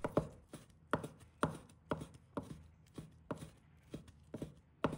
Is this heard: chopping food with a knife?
yes